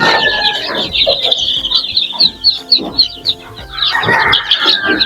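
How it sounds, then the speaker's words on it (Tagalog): A large flock of about a hundred young chicks in a yard, clucking and cheeping in a busy, overlapping chorus of close, loud calls that rises and falls without pause. "Ito yung sisiyo natin mga idol."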